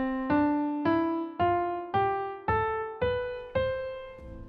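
A diatonic scale rises on piano, eight clear separate notes struck one after another at a steady even pace, each ringing briefly before the next, with no talk over them.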